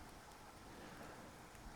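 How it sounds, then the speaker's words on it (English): A real rainstorm outside, a steady dense hiss of rain falling on surfaces, faint and even throughout with no distinct drops or talking standing out. "Maybe the rain sounds"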